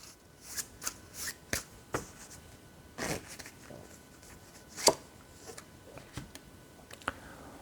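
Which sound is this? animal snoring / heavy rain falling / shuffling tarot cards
shuffling tarot cards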